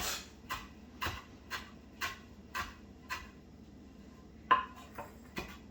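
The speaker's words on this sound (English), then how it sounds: "And just keep chopping this away." A knife chops fresh herbs for chimichurri on a cutting board, about two light chops per second, close and fairly quiet, with a brief pause midway.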